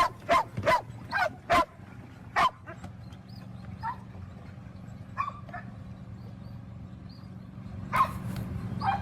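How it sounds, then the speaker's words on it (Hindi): Stray dogs riding a trolley train made of plastic drums give quick bursts of yelping and barking, then occasional whimpers over a steady low rumble of movement. "कैसे इस ट्रॉली ट्रेन की सवारी का लुत्फ उठाते हुए ये आवारा कुत्ते नजर आ रहे हैं"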